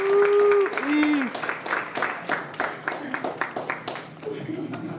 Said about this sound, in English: give a round of applause to our other finalist